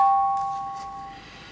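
A lone bell is struck once, and its clear ringing tone slowly fades over a faint, quiet background.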